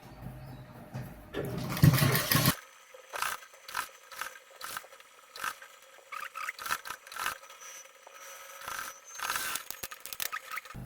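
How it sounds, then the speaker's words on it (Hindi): A sewing machine stitches the gathers of a gharara dress in short, repeated bursts of running stitches separated by pauses, loud and close, with one longer whirring run at the start. "बहुत आराम से लगाना है और चून को बैठाते जाना है और सिलाई भी लगाते जाना है।"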